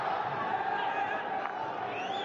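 Large crowd at an India vs Poland field hockey Olympic qualifier in London, a steady distant roar of massed voices and murmur filling the venue, under a commentator's continuous talk.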